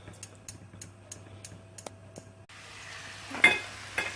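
Meatballs go into a hot pan for browning. Sparse light ticks give way to a steady, close sizzle of frying, with a couple of sharper spits and clatters.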